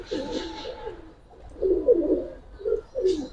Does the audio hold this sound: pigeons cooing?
yes